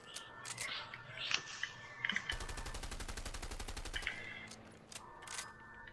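An MP5 submachine gun fires a rapid, steady burst of close, loud shots lasting about two seconds in the video game A Way Out, preceded and followed by scattered clicks and handling noises.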